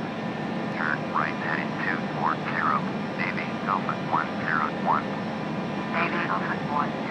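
A Navy aircraft approaching Aspen airport drones steadily inside the cockpit, with the loud engine and airflow filling the background while short, chirpy radio or voice sounds come and go on top.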